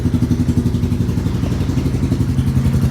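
A 1999 Yamaha Wolverine 350 ATV with a DG exhaust runs close by, its single-cylinder engine thumping at a steady, rapid idle pulse with slight unevenness and no talk over it.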